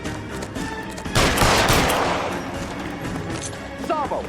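Gunshots fired at a fleeing suspect in LA Noire, a loud blast with a long crackling tail rising out of busy street ambience, with faint sounds trailing near the end.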